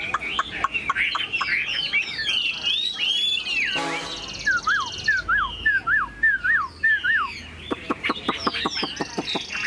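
A hwamei songbird sings loud, varied whistled phrases of rising and falling notes, with a sharp rattling burst midway and quick repeated calls near the end.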